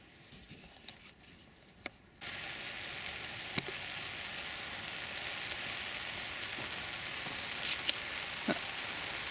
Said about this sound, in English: Now it's taping with rain.